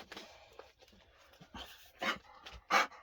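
Big dogs in a motorhome pant and whimper for attention, a steady breathy panting broken by several louder close bursts toward the end.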